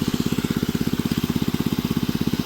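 An engine-driven water pump drawing water for rice seedlings thumps at a fast, steady, even beat, loud and close, running alone without talk.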